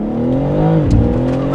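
A car engine revs and climbs in pitch with harmonics rising and falling as it accelerates, loud and close throughout, with no one speaking.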